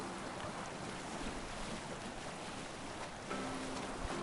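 A sailing ship moves through wind at sea in Assassin's Creed Valhalla, giving a steady broadband rush of wind and waves that stays loud and constant throughout.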